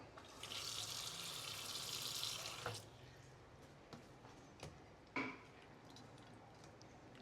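Water runs steadily from a tap into a bowl with white vinegar for a few seconds, then stops, leaving scattered drips and small clicks in a quiet room.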